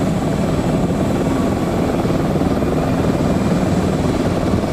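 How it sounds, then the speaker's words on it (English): Loud, continuous low rumble with steady rotor-like throbbing fills the cabin of a four-engine Cathay Pacific airliner during takeoff from Taiwan Taoyuan International Airport, a helicopter's beat blended into the engine noise at an unchanging level. "I hear a helicopter."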